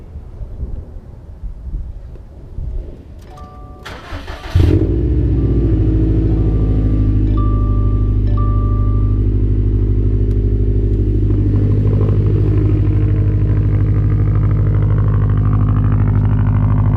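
Cold start of a 2015+ Ford Mustang engine: after a few faint clicks, the engine fires abruptly and settles into a loud, deep, steady idle rumble recorded close up.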